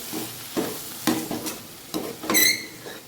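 Chili powder being stirred into a bitter gourd and tomato curry in a pan, a spoon scraping in a few distinct strokes roughly every half second over a soft background sizzle.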